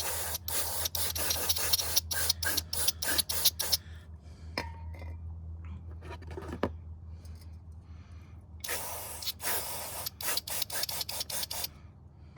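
Bursts of aerosol throttle body cleaner spray hiss in short repeated pulses, pausing in the middle amid light handling noises, then resuming with more quick sprays.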